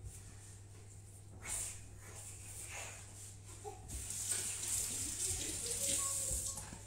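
Tap water runs into a kitchen sink while food is rinsed during homemade salmon gravlax preparation, a steady moderate splashing stream that grows fuller and brighter partway through, with small clinks and movements and no talk.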